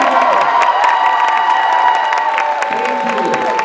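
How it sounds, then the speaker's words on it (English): A crowd at a closing ceremony claps and cheers for the staff, dense applause with scattered whoops and shouts, loud and sustained, thinning slightly toward the end. "round of applause for everybody who works so hard"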